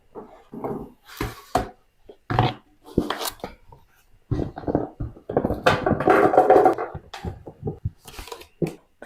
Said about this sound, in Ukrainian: І перекидаю сюди ж перець.